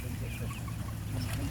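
Hens clucking in a backyard coop among meat birds, a low steady murmur of fowl sounds continuing throughout at moderate level with no clear talk.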